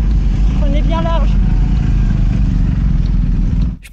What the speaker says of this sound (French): Attention moto, prenez bien large.